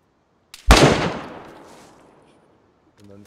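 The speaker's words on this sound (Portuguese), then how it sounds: "Dando tiro neles, eu acho." A single loud gunshot-like blast in the video game DayZ, with a long decaying echo, followed by a short burst of voice at the end.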